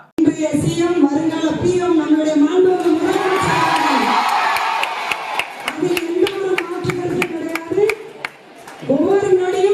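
An audience below the stage at a minister's government event erupts with loud cheering, shouting, whistles and sharp bursts of clapping, a close, boisterous roar that surges mid-way and dips briefly before rising again.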